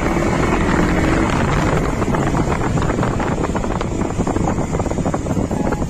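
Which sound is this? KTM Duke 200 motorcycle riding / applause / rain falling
KTM Duke 200 motorcycle riding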